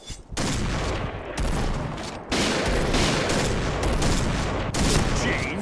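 PGM Hecate II sniper rifle fire in the shooter game Point Blank, loud sharp blasts repeating every second or so, each followed by brief ringing, with faint voices underneath.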